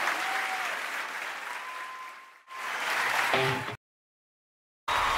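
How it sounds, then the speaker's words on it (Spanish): A church congregation bursts into loud, sustained clapping, briefly dips and swells again, then cuts to silence before resuming, with faint tones and voices threaded through it. "Dale ese aplauso al Señor."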